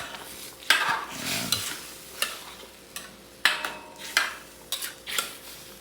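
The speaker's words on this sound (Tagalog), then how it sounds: "Dahan-dahan lang sa paghalo para hindi masira ang isda." A spoon stirs fish sinigang with maya maya in a cooking pot, moving slowly and gently in a soft scraping rhythm with light clinks against the pot, over a quiet simmer, with no one talking.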